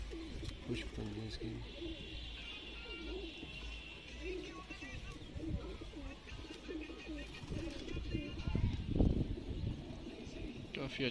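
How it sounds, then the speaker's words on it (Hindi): Paras pigeons cooing near a loft in R.S. Pura, Jammu, soft repeated low coos mixed with wing flutters and handling noises, someone talking over them. "काफ़ी अच्छा कबूतर है।"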